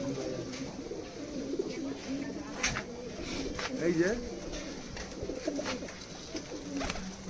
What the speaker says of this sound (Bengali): যে কবুতরগুলো আমি প্রথমে দেখিয়েছিলাম সেই কবুতর সবগুলোই এখানে ছাড়া রয়েছে বন্ধুরা